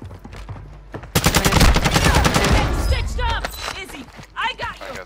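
Rapid automatic gunfire in Call of Duty Modern Warfare 2, a dense burst of shots lasting about two seconds followed by scattered impacts and game effects, with players talking over it.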